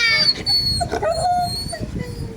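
A stray Filipino native dog (aspin) whimpers close by, giving several high, thin whines and yelps in an uneven run, with some faint background noise.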